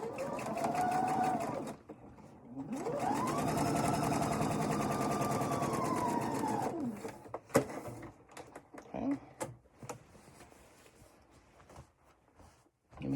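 A sewing machine stitches a quilt-as-you-go composition book cover in two sustained runs of steady motor whir, followed by clicks and handling sounds as the fabric is moved.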